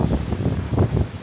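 Wind gusts buffet the microphone outdoors on an island in Sri Lanka, a loud, rumbling, irregular blustering noise with no voices.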